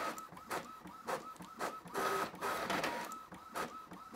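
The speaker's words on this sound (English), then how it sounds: "it's printing out at a pretty decent rate of speed here" Epson WorkForce ET-4550 EcoTank all-in-one inkjet printer running a page, with rhythmic mechanical whirring pulses and a repeating print-head shuttle sound, close and clear with no talk.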